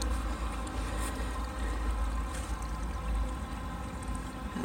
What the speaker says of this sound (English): I'm back at this area with the lovely running water.